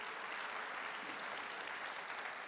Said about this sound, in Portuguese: Dá uma salva de palmas aí só para eu ficar menos nervoso.